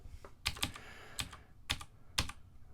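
Five or six crisp, separate keystrokes on a computer keyboard while code is written, tapped in small irregular bursts, close and clear with no talking.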